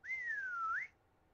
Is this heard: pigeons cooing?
no